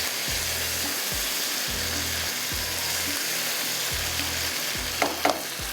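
Shrimp browning in garlic butter in a pan, a steady close sizzle with repeated rhythmic scraping strokes of stirring roughly every second, and a couple of sharper clinks near the end.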